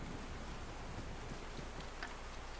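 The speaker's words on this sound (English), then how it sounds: "The rain got pretty loud from in here." Rain in the video game DayZ, heard from indoors as a loud, steady hiss of drops on a roof and surfaces, continuous and alone with no talk.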